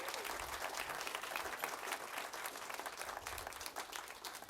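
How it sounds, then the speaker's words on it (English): People at a school board of education meeting give a round of applause for students. The clapping is faint and steady, a dense patter that lasts the whole few seconds. "Let's give them another round of applause."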